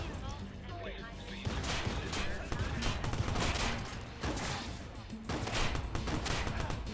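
Shotgun fire in the Watch Dogs video game rings out as loud, sharp, repeated blasts amid a busy clatter, with people talking over the action.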